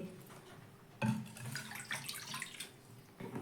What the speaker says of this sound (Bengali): তারপরে দিয়ে দিচ্ছি একটা বাটির মাপ ধরে দুই বাটি জল